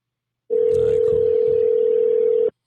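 A steady, unbroken electronic ringing tone on a phone call sounds for about two seconds with a faint murmur underneath, then cuts off abruptly.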